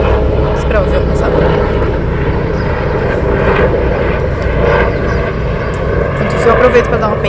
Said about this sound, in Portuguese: Esperar o avião passar.